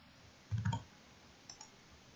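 Computer mouse clicking during work in Rhino modeling software, a quiet, close cluster of quick clicks followed by a fainter pair of clicks a moment later.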